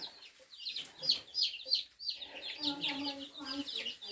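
Turkeys on a homestead give repeated close clucks and chirpy calls, fairly loud and irregular, with some softer calls and light scratching sounds around them.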